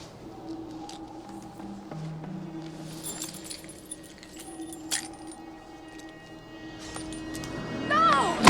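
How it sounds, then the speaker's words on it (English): Car keys jangle and clink faintly in a movie scene, a light metallic rattle that grows closer and sharper at the end over a low room hum and background noise. "Give me your car keys."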